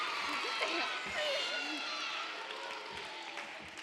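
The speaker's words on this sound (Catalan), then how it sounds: "Fort aplaudiment." Loud applause from students seated at tables in a school quiz contest, a dense sustained wash of clapping and crowd noise lasting throughout, with voices talking and calling out over it.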